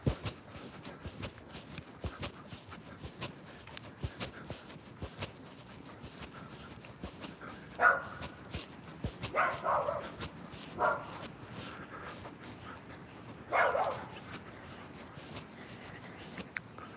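A dog gives a handful of separate barks spread across a quiet room, with light clicking and scuffling sounds between them.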